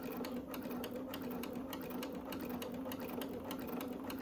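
A sewing machine stitches slowly around a quilt with a steady, fast mechanical whir and needle patter that runs unbroken, close and alone.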